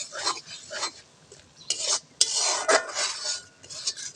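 Meat being stir-fried in a pan, with bursts of spatula scraping and clattering against the metal between short pauses, close and clear, with a faint sizzle underneath.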